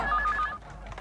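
A telephone rings in a short repeating electronic trill, loud and close, then cuts off partway through, leaving low background noise.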